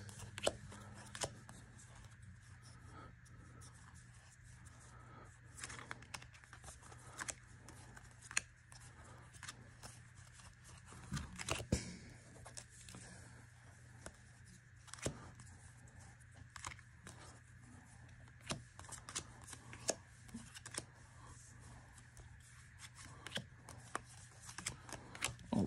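Jetburn trading cards being handled and sorted by type at a table, soft repeated flicks and slides of card stock, close and quiet, in an irregular stream of small taps and scrapes with no talking.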